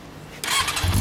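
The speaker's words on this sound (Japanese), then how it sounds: "オッケー、エンジンかけてもらうかな。" A 2005 Honda CB400 Super Four with a one-off Yoshimura exhaust starts up: a quiet lead-in, then a sudden loud catch about halfway through as the engine fires and settles into a steady, close rumble.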